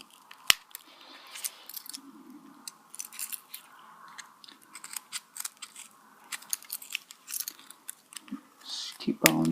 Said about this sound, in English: Just keep on cutting right along. Keep on trimming.